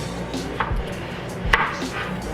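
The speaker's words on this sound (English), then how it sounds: "I'm currently chopping up the peppers so I can put them in the pan with the chicken." A knife chops peppers on a cutting board in a home kitchen, giving a few soft, uneven knocks at close range over a steady background hum, with no talk.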